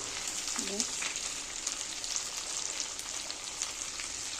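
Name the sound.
frying spice paste with turmeric and Kashmiri chili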